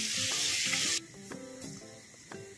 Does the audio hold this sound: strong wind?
no